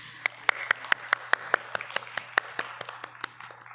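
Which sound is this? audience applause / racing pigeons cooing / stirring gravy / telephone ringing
audience applause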